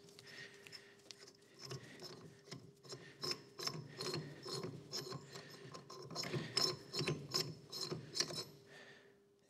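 A ratchet with a welded-on socket turns a castle nut off a Maserati hub, giving close, quiet, rapid metallic clicking that comes in uneven bursts over several seconds.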